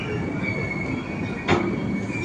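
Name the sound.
long-distance express train from Agartala to Delhi entering station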